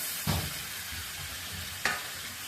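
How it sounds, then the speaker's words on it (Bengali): Fish pieces dropped into a hot pan with curry broth poured in, giving a steady close sizzle with two sharp bursts as they hit the oil. "এবার আমি মাছগুলো ছেড়ে দিলাম। মাছগুলো ছেড়ে দিয়ে সাথে সাথে একটু ঝোলটা দিয়ে দিচ্ছি।"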